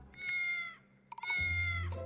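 A cat meows twice in a row, each call clear, close and drawn out, with a soft low thud between them and no voices.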